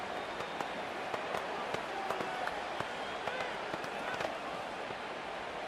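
Steady stadium crowd roar from a simulated Madden 25 NFL game between the Dolphins and Vikings, a dense continuous wash with faint scattered claps, under a play-by-play commentator's voice.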